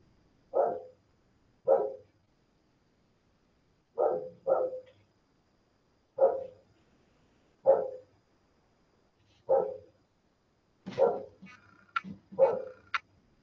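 A dog barks repeatedly in single and paired woofs spaced a second or two apart, moderately distant and fairly quiet, with a few faint clinks mixed in toward the end and no talking.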